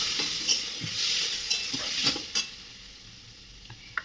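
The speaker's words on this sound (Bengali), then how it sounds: "এরপরে ভাজা হয়ে গেছে, আমি জল দিয়ে দিচ্ছি।" Water poured into a pan of frying pointed gourd and prawns sets off a bright, hissing sizzle and steam, with a few stirring knocks and scrapes close by, settling into a quieter simmer toward the end.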